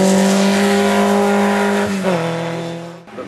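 A race car at the Hauenstein hill climb race roars past close by, its loud engine holding a steady high note, then dropping in pitch as it shifts and fades away.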